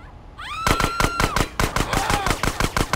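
Rapid automatic gunfire rattles in bursts in GTA San Andreas, loud and close, a quick string of sharp shots with brief pauses, over a whining tonal sound at the start.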